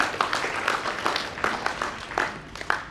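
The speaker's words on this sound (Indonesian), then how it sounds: "Tepuk tangan dulu" An audience at an Indonesian national seminar on Islamic finance careers applauds, a dense, steady patter of many hands clapping at close range with a few louder individual claps standing out.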